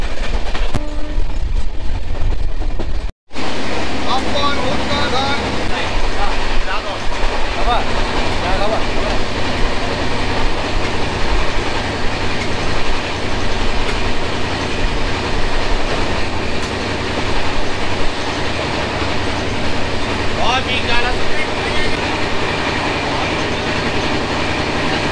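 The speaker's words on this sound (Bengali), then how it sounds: "আর ট্রেন আমাদের ছাড়লো মেদিনীপুর স্টেশন থেকে।" The Ruposhi Bangla Express 12883 runs steadily on the rails after leaving Medinipur station, giving a loud, continuous rumble and clatter of wheels and carriages, broken by one brief dropout early on.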